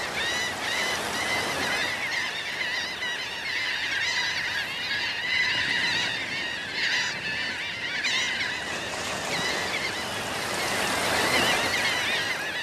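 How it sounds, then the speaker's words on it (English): A dense chorus of harsh seabird calls fills the air nonstop, with surf washing faintly underneath. "The gulls eat their fill"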